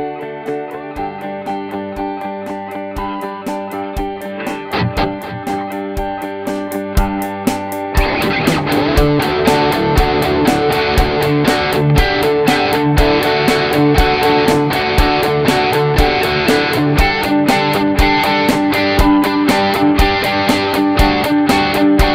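A recorded guitar loop plays back from a Nux MG300 looper, a layered sustained part joined around eight seconds by a denser, rhythmic strummed layer with steady repeating attacks, loud and continuous with no talk.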